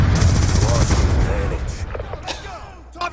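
Automated sentry gun fire in Call of Duty Black Ops rattles in rapid, dense bursts, loud and near at first and then thinning out, with a few sharper cracks near the end and game voices mixed in.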